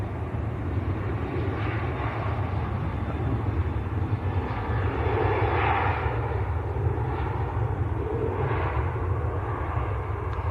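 Jet aircraft at Manchester Airport, a business jet arriving from Dublin or a Ryanair Boeing 737-800 departing for Dublin, giving a steady, distant low roar of engines that holds without a break.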